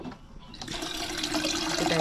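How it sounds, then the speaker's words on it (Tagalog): Water runs from a tap into a container for heating, a steady rushing stream that starts after a brief clatter and grows fuller as it fills. "Lagyan tayo tubig"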